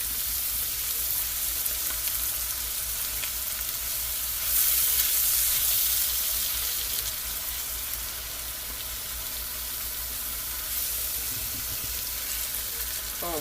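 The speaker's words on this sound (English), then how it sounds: "Now we can deglaze it with some of this evaporated milk." Evaporated milk hits a hot pan for deglazing in a corn chowder, giving a steady, close sizzle that swells louder for a couple of seconds mid-way before settling back.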